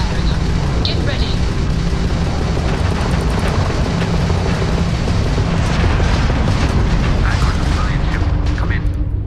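Loud, dense sci-fi space combat in Starfield, with ship weapons firing and booming explosions layered over a constant rumble, while voices talk throughout.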